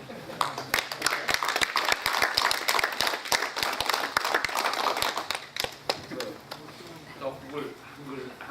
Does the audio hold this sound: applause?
yes